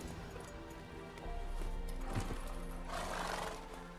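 A horse whinnies and snorts in The Witcher 3: Wild Hunt, with hoof clip-clops and a soft game music bed; a loud neigh rises near the middle, followed by a breathy snort toward the end.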